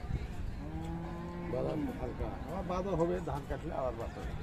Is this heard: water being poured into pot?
no